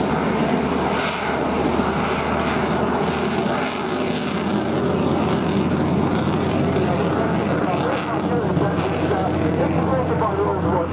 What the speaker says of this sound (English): basically what I mean about the noise of the aircraft.